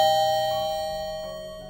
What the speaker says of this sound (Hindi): डोरबेल हमने बजा करके देखते हैं।